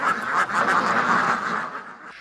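A brief chorus of white Pekin ducks quacking and honking together on a farm, fairly close, in a short burst of overlapping calls.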